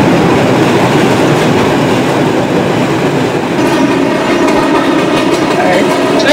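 A video game subway train rumbles loudly and continuously, with rhythmic clatter of wheels on track and a faint high whine throughout.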